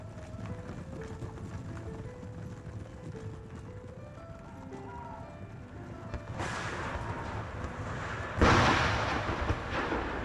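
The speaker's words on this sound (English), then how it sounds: "All cannons fired on their mounted general." Cannons fire in the Empire: Total War battle game as a low rumble under faint music and hoofbeats, then two sharp, loud blasts hit near the end.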